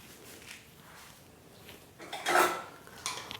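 A metal pressure cooker clanks down onto a gas stovetop, a couple of close, sharp knocks after some quiet rustling, with no talking.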